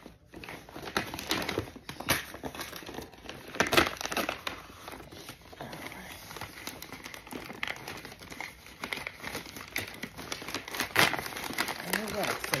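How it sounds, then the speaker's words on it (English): Wrapping paper being torn off a well-taped package, with bursts of crinkling, crumpling and ripping close by in an irregular rhythm, while a person talks quietly at times. "So that's the paper coming off."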